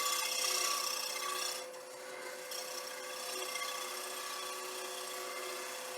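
A woodturning cut on a bowl spinning on a lathe, producing nice shavings: a continuous loud, bright rasping hiss of the tool against the wood, briefly easing off before settling into a steady scrape.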